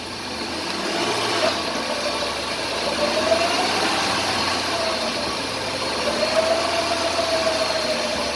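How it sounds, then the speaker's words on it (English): A Jeep engine with an NP247 transfer case revs slightly under light throttle, a steady mid-to-low hum with a faint rising whine, continuous and fairly close, with no talk. "Give it a little throttle."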